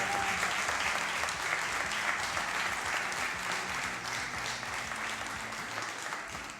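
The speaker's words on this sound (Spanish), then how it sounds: "un aplauso para ellos" Sustained audience applause for the directors at a community gathering, a dense wash of clapping from a crowd that stays strong throughout the clip with no speech over it.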